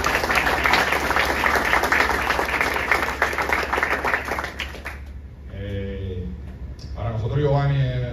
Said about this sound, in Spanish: Fuerte el aplauso para Giovanni Martínez.